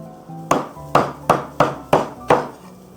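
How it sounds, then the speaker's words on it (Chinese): A cleaver chops through a duck on a cutting board: six sharp, evenly spaced whacks, close and loud, with no talking. "好，我们先给它剁一下哈"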